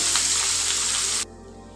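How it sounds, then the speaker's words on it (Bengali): Onions sizzle steadily in a hot pan while being fried until brown, a continuous close hiss that cuts off abruptly partway through, leaving quiet room tone. "এবার পেঁয়াজটাকে ব্রাউন কালার হওয়া পর্যন্ত ফ্রাই করে নেব।"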